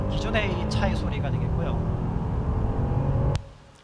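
Stock engine note of a car, a steady low rumble with harmonic drone, loud and close, running continuously before cutting off abruptly near the end.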